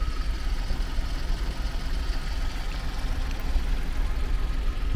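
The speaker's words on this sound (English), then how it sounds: "And the engine's really quiet today." A small car's engine hums low and steady while driving, a constant mid-to-low drone heard from inside the cabin with no talking over it.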